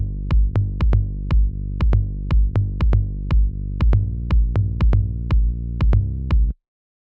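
Low end of a techno track in G, with a heavy sustained bass, a punchy kick and a low tom hitting together. The pattern is steady and loud, with no other sounds, and it cuts off abruptly near the end.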